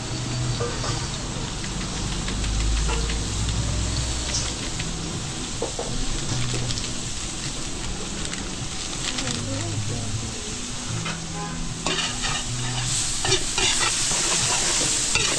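Garlic and onion frying and being stirred in a pan for kare-kare, with a steady loud sizzle throughout and scraping stir strokes; bursts of talk come in and out over the cooking.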